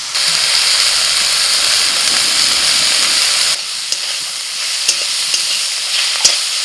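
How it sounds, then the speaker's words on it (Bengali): Loud, steady sizzling of onions frying in a pan, which eases partway through, with occasional sharp clinks of a spoon against the pan. "আজকে একটু পেঁয়াজ দিয়ে ভাজবো"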